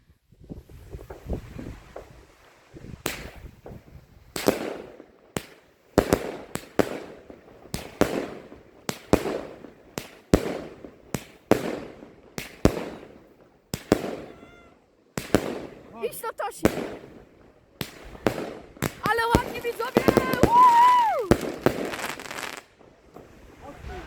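New Year's Eve fireworks explode over Kołobrzeg as a long series of sharp, loud bangs and crackles in quick succession, with a denser burst near the end. People talk over them, and a cat-like cry appears briefly.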